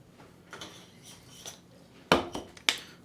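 A utensil clinks against a bowl while stirring Persian yogurt salad (mastokhiar) with salt and pepper: soft scraping, then two sharp, louder clinks close by, with no talking.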